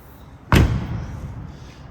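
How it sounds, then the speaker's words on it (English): A heavy door on a 1994 Nissan Pulsar GTI-R slams shut once, close and loud, with a solid low thud that dies away quickly into quiet. "Very heavy door sound."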